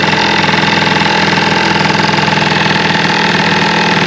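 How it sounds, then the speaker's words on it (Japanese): An early-model Honda Live Dio ZX scooter idles through a loud aftermarket muffler, a steady, close, throbbing putter with no pause. "マフラーの音やばいね。"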